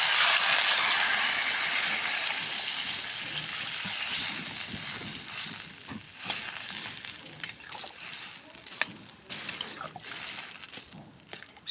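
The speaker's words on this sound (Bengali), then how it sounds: "এখন আমি পানি দিয়ে কষে নেব।" Food sizzles and crackles in a wok as it is sautéed with spices and a splash of water, a steady frying hiss with scattered stirring scrapes and clicks, close and moderately loud.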